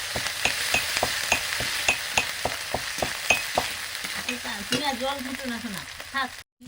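Ginger-garlic paste frying in hot mustard oil, with a steady sizzle and repeated scraping stirs of a spatula against the pan; a voice speaks briefly near the end.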